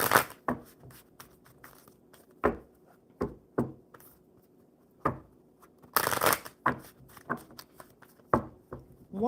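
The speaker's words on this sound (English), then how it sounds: "One more good shuffle for Sterling." Playing cards are shuffled by hand in repeated sharp riffling bursts and light slaps, with pauses between them, close and fairly quiet, and no speech.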